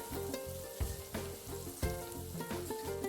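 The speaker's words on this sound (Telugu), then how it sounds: "ఇలా లో ఫ్లేమ్లో పెట్టేసుకొని బాగా ఫ్రై చేసుకోవాలి" Okra frying in oil in a pan over a low flame, a steady close sizzle with occasional soft stirring scrapes, no voices.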